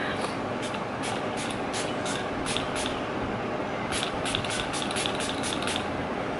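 Catrice HD Active Performance Fizzing setting spray misted from its pump in a series of quick bursts, each a short airy spritz, over a steady background hiss.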